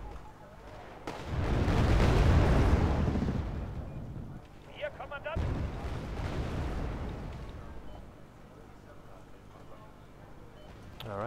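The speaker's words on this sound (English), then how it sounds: "I'm coming in with napalm," Napalm strike in a multiplayer war game bursts into a loud, rumbling roar that swells and lingers, then a second booming wave follows, with players talking over the battle noise.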